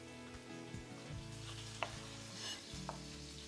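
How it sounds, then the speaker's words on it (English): Jalapeño or other food sizzles and fries in a pan with a soft, steady crackle, quiet and close, with a couple of faint knocks of a utensil and no talk. "Ooh, I hear that sizzling away."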